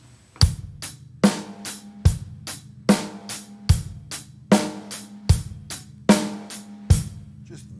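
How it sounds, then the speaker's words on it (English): Acoustic drum kit playing a steady money beat groove, with regular kick and snare hits under ticking cymbal or stick strokes, close and moderately loud, evenly repeating with no talking. "I want to play this money beat"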